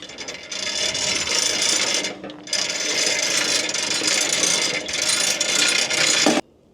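A hand crank on a sawmill is wound back into position, producing continuous close scraping, ratcheting mechanical noise with two short pauses before it cuts off abruptly.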